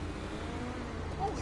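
A truck engine hums steadily in a PS4 video game, a low, even drone at moderate volume.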